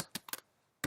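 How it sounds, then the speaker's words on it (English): Keys on a computer keyboard are typed in short, separate bursts: a quick run of three or four close taps, a pause, then one more firm keystroke, heard close and clear with no talking. "I'm typing some caps and some small"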